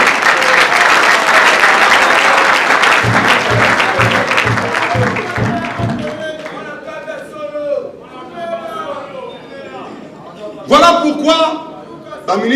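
A crowd at a French-speaking youth employment and entrepreneurship rally cheers and applauds loudly, dense clapping that thins out while someone speaks over it and brief shouts rise near the end.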